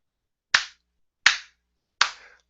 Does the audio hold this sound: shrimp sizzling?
no